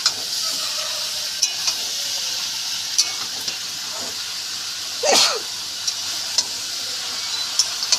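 Boiled jackfruit goes into a hot pan of spiced oil for a Bengali jackfruit, potato and prawn dish, bringing a steady close sizzle, occasional spatula clicks and one louder hissing burst midway.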